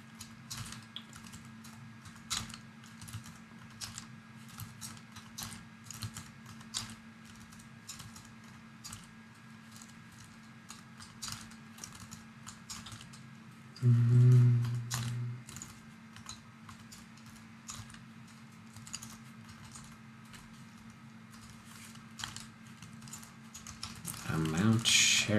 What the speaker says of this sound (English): so we can type like this